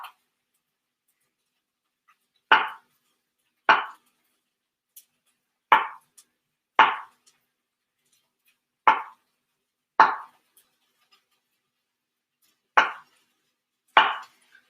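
A kitchen knife chops mushrooms on a cutting board with about eight crisp, separate chops at uneven intervals, close and clear against near silence.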